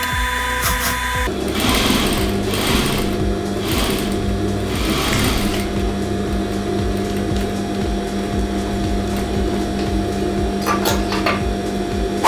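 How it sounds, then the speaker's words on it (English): A sewing machine top stitches a fabric bat wrap for injured wildlife, running loud and steady at close range. A few handling clicks come at the start. "so I can get my sewing machine in here to just top stitch here."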